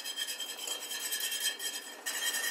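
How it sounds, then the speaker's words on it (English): Banana pudding is whisked in a pot on the stove as it simmers and thickens. A close, continuous rasping scrape of the whisk repeats in quick, even strokes, with no talking. "I'm going to continue to whisk, and it is just going to simmer and thicken"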